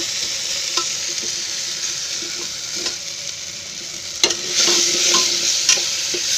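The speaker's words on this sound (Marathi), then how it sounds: "म्हणून 1 मिनिट जरा शिजू दे टोमॅटो" Tomatoes frying in a pan for a sprouted horse gram curry, a continuous close sizzle with spoon scrapes and stirring knocks, growing louder toward the end.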